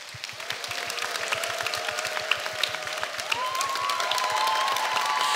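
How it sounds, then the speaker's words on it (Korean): Audience at a church gathering in Seoul applauds and cheers for several seconds, a steady wash of clapping and voices with a bright whistle-like tone gliding through it, under a regular low thumping beat. "환호성 너무 좋습니다"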